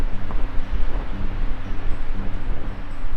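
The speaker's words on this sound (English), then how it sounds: "It's pretty breezy up on this point" Wind blows across Shovel Point on the Minnesota lakeshore, buffeting the microphone in a loud, low, continuous rumble that gusts unevenly throughout.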